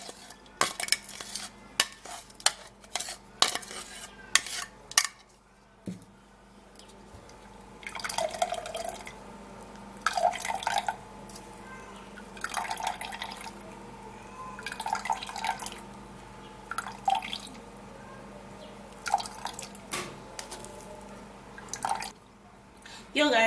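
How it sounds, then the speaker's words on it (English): Liquid strains through a small kitchen strainer into a cup, with irregular drips and trickles broken up by light metallic clinks and taps of utensils against the strainer and cup. "I'm gonna get a cup and a strainer and strain this into it."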